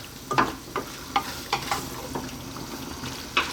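Pasta being stirred through a broccoli cream sauce in a hot pan: a soft, steady sizzle with a series of wet scraping and sloshing strokes at a loose, regular pace.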